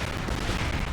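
Dense, sustained burst of gunfire in the video game Resistance 3, a loud continuous barrage with no clear gaps between shots.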